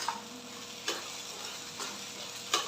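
Ingredients being sautéed in a pan with a soft continuous sizzle, punctuated by a few light scrapes of a spoon at intervals, faint and close.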